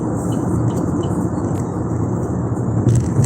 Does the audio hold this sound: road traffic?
yes